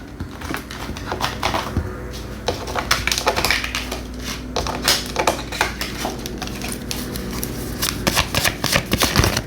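Tarot cards are shuffled and drawn, giving a close, continuous run of papery riffles, flicks and soft slaps with irregular bursts throughout.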